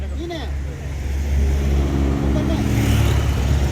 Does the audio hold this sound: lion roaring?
no